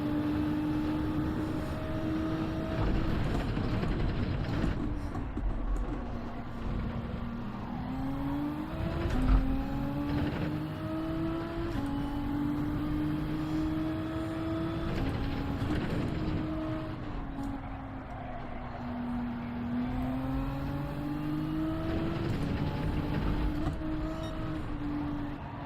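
Ferrari race cars in a racing video game, engines whining and shifting pitch as they rise and fall through gears, several cars heard at moderate distance in a continuous drone without voices.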